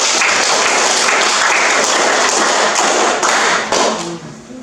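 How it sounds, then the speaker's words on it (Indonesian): Students and their teacher clap together in a classroom at the end of a lesson. The dense, steady clapping fills the room and then trails off. "Tepuk tangan untuk kita semua dulu"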